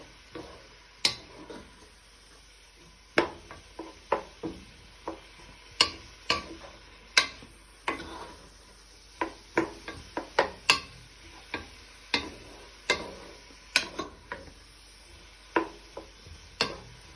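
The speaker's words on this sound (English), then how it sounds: "So you're going to do this for a few minutes, stirring them in with all your vegetables." A utensil stirs prawns and vegetables in a pan for prawn vermicelli, making sharp, close, irregular clicks and taps against the pan over a quiet background, with no talking.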